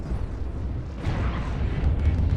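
Missile explosions rumble in the MechWarrior Online battle, a deep, heavy booming that swells around the midpoint and keeps thudding low and loud to the end.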